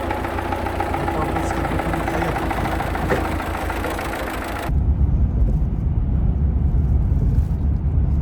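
A tractor engine running at idle, a steady low rumble with a slight knock that carries on unbroken for several seconds and grows heavier partway through, with voices talking at moments.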